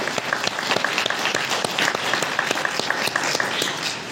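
Audience at a winter Dhamma retreat session breaks into sustained applause, dense overlapping claps from a mid-sized crowd with sharp individual hand-claps standing out, steady in level throughout.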